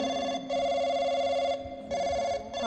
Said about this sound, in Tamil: ஒருவேளை எப்படி சவுண்டு கேட்குறது நம்ம ஃபோனாக இருக்குமோ?